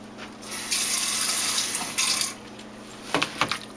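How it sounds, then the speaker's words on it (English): Water pours from a tap into a bowl of fried rice seasoning made with sugar, light soy sauce and grapeseed oil, a steady close hiss for a couple of seconds, then a few splashing trickles. "And I put a little bit of water,"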